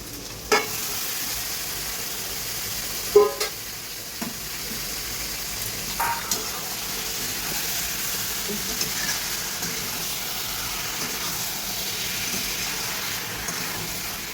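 Chicken meat sizzles and fries in a pan for malai chicken, with a steady crackle and a few sharp clatters as it is stirred. The sound is moderate and close, with no talking.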